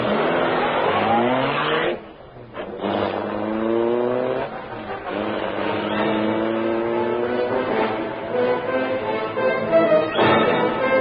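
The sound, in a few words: car engine roaring to life, Black Beauty speeding away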